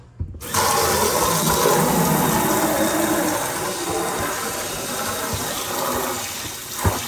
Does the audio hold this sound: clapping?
no